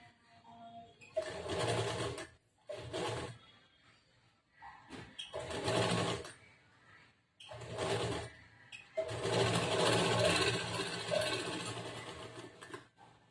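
A sewing machine stitches a collar-neck blouse in bursts of whirring, several short runs separated by pauses and then one longer continuous run, heard close and fairly quiet.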